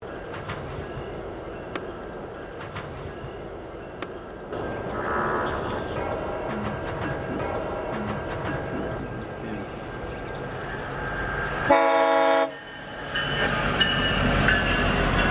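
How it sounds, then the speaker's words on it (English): A GO commuter train rumbles steadily past at close range in Maple, Ontario, with a short, loud horn blast near the end before the rolling noise resumes. "The go train must have become a daily show for them by now."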